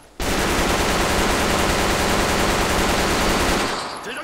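SCAR-L rifle in a video game firing in rapid sustained bursts while crouched, a loud dense stream of shots lasting several seconds before cutting off abruptly.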